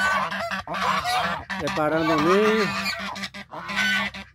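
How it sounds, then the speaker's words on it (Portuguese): Geese honk loudly and repeatedly inside a goose coop, close by, with overlapping nasal calls, while a person talks over them. "galinheiro de ganso"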